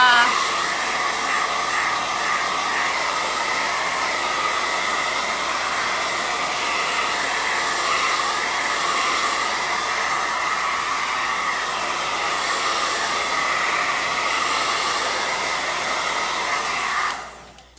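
A hair dryer blows steadily on a wooden bunny craft, a close, constant whirring hum that holds for about seventeen seconds before shutting off and winding down at the end.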